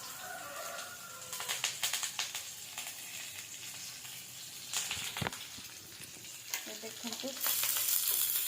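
Onions frying in a pan give a steady sizzle with stirring scrapes and clatter, brief utensil knocks, and a louder hiss near the end, with a short spoken word in the middle.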